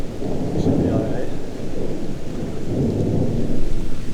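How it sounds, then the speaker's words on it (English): An outdoor thunderstorm with lightning, where loud, rolling rumbles of thunder swell and fade over steady heavy rain, close and enveloping. "Lightning storm."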